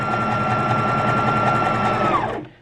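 A Brother beginner sewing machine running steadily on a wide zigzag stitch, a loud, close mechanical whir with a rapid stitching rhythm that winds down and stops at the end.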